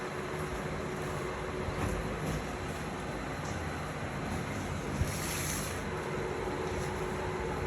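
Rain falls steadily during outdoor khichuri cooking, a continuous close hiss with a slight whooshing swell midway and no voices.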